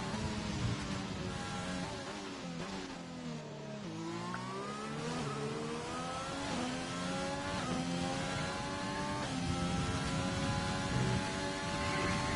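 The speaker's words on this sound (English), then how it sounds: "the Renault of Dogarbs has just started his first flying lap" Renault Formula 1 car engine in a racing video game at Zandvoort, screaming steadily at high revs on a flying lap, with rising and falling harmonic sweeps as gears shift, loud and continuous without talk.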